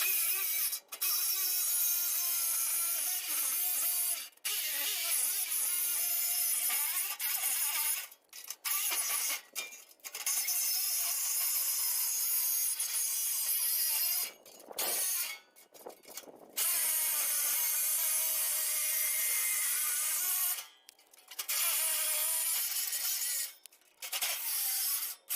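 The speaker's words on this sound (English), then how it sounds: "I'm going to use a jigsaw." A jigsaw cuts a hole in a Blackstone griddle panel for a side burner, a steady rasping, buzzing saw noise that runs close and loud in several long bursts with brief pauses between cuts.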